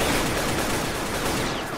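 Gunfire from a Roblox game set in Southwest Florida, a dense, continuous burst of rapid shots filling the moment at steady loudness, with no talking.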